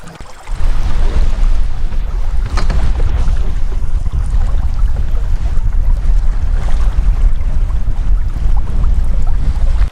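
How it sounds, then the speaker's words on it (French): Strong autumn wind blows hard and steadily at a wild lakeside camp, a loud, continuous roaring gust with low rumbling buffeting across the whole stretch and no voices. "Le vent souffle trop fort de ce côté,"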